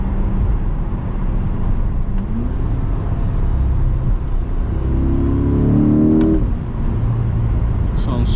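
A 2023 Chevrolet C8 Corvette's engine pulls hard from inside the cabin, a steady drone swelling as it accelerates with rising revs around the middle, while someone talks over it.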